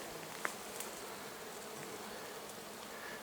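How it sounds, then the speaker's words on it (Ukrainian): A steady, dense buzzing of many honeybees around log hives fills the air, constant and fairly faint, with no voices. "Ось куди літає вся бджола моя з колод"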